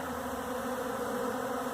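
A bee buzzing steadily at close range while foraging on flour, a continuous drone holding through the whole moment.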